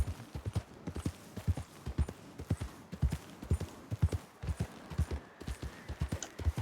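Horse hooves clip-clop in the video game Red Dead Online, a steady rhythmic trot of clear, close hoofbeats continuing throughout over a faint ambient background.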